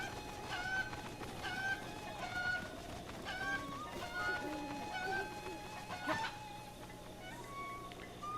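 Chickens in the game Breath of the Wild, clucking repeatedly at moderate distance over a low background rumble, with a voice talking intermittently.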